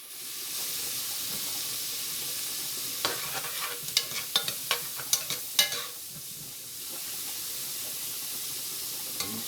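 Food frying in oil in a pan while making spaghetti and meat sauce: a steady close sizzle and hiss, with a brief run of sharp pops and spatters in the middle before the frying settles back to an even hiss.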